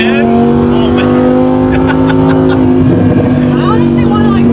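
A Lamborghini Huracan V10, rebuilt after a wreck, runs with a loud sustained engine drone whose pitch holds and then shifts slightly, close up, with someone talking over it.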